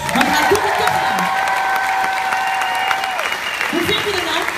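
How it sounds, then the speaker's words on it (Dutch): A concert audience in Hengelo applauds steadily and loudly, with a sustained sung or held tone and some cheering over the clapping. "Mag ik eerst even een onverdoofd applaus?"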